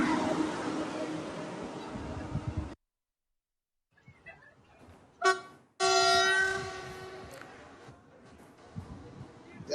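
A new passenger train running a test in Ghana sounds a loud tonal horn in two blasts: a short burst near the middle and a longer sustained blast after it. Rumbling noise comes before both, with a silent gap in between.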